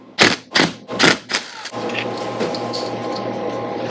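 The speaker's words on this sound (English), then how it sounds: "Okay, let's undo the cam gear." Four sharp, loud ratcheting bursts come from a ratchet working on the cam gear bolts of a Honda Mini Trail motorcycle, followed by a steady low mechanical hum.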